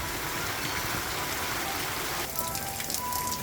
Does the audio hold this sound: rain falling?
yes